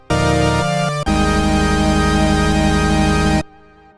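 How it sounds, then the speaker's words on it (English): Roland Alpha Juno synthesizer plays pulse-width-modulated sawtooth and pulse waves with a sub-oscillator two octaves down, a loud, buzzing, thick sustained tone that shifts pitch once and then holds before stopping abruptly. "We could apply pulse width modulation to both the sawtooth and the pulse wave at the same time with a"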